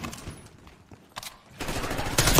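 Gunfire in Black Ops 6: rapid bursts of shots, loud and close, building toward a dense volley at the end, alone without talk.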